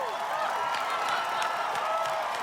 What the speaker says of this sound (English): wife Catherine and children Anne and Tang cheering him on the whole way